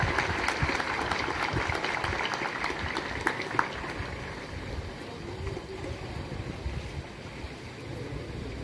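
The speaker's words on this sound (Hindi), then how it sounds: "शाबाश, इनके लिए तालियां।" Faint crowd applause rises over a noisy outdoor backdrop at a university brigade water-rescue demonstration, with scattered claps that thin out.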